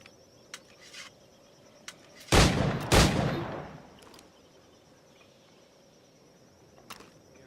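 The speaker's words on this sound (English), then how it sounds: "I shoot one target" Gunfire in Assassin's Creed IV Black Flag: two loud, sharp gunshots in quick succession with a short decaying tail, set against quiet ambient clicks and faint background.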